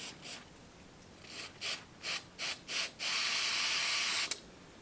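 Short bursts of oil sprayed from an aerosol can onto a Birchwood Casey Super Blue touched-up gun finish, several quick hissing puffs in a row and then one long steady spray, close and clear with no talk.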